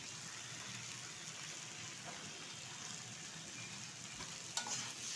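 Prawn and potato curry with garam masala sizzles faintly in a pan as it is stirred, a quiet continuous frying hiss with one small scrape near the end.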